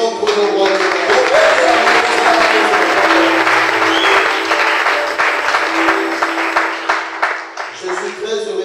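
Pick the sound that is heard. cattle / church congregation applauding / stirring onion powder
church congregation applauding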